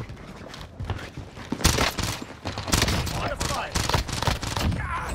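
MILANO submachine gun firing in Call of Duty Warzone, loud rapid bursts of automatic gunfire repeating across the moment with brief pauses between volleys, close and dominant.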